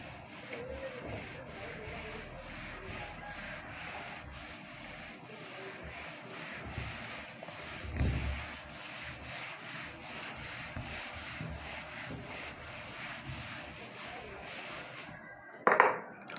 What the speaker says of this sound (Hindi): तो इसको मैं रब कर देता हूँ यहाँ से।